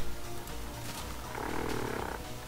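A big cat's roar from a Minecraft Rilla Mod creature's custom sound effect, a low rumbling growl rising in the middle, fairly faint over a noisy game background.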